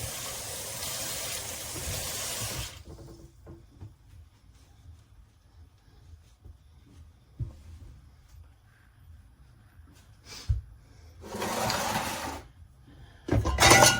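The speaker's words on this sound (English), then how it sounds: "I'm going to give my hands a rinse" Tap water gushes briefly during a kitchen hand rinse while roasting a pork butt, a steady broadband rush at the start, then quiet handling clatter before two more short bursts of running water near the end.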